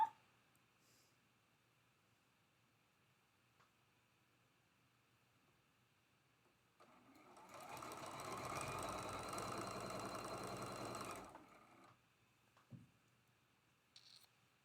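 A sewing machine stitches quilt block squares in one steady run of about five seconds, a fast mechanical whir and rattle rising from a quiet room and stopping abruptly, with faint handling clicks after.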